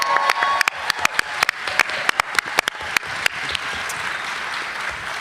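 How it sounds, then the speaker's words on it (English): Scattered individual claps, sharp and distinct over a softer bed of clapping, from a convention panel audience applauding the cast at Dragon Con, continuing steadily throughout. "let's give the cast a round of applause for being here and for answering questions"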